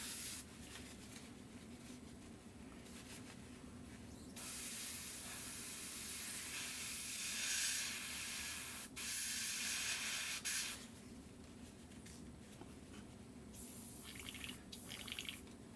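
A rattle-can spray of primer hisses steadily for about six seconds at close range, after a quieter stretch of faint room noise, and then gives way to short bursts.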